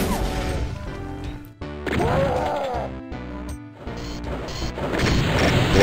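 Explosions and combat in the video game Doom 2 on the Auger Zenith map, repeated loud crashing blasts and impacts in irregular bursts, with a brief voice in between.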